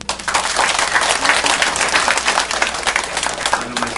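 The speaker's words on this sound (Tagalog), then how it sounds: "Kung niniwala ka, palakpakan mo ha." A crowd at a Vmobile business presentation breaks into dense, continuous applause that holds steady at full strength for several seconds with no voices over it.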